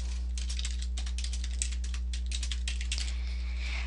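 Fingers type words on a computer keyboard in a quick, dense burst of close key clicks lasting a few seconds. A steady electrical hum runs beneath, with no talk.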